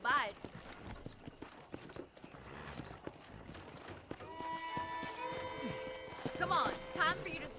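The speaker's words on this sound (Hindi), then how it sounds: "मस्त है भाई ये घोड़ा." Horse hooves clip-clopping in the video game Red Dead Redemption, a steady rhythmic trot heard under ongoing character dialogue, with tonal background sounds in the later part.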